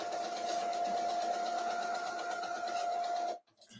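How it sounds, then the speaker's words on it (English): A Brother MegaTank inkjet printer runs its self-cleaning cycle, giving a steady mechanical whir with a sustained tone that holds for about three seconds, then cuts off abruptly into near silence. "It's one of those brother printers. Cleaning."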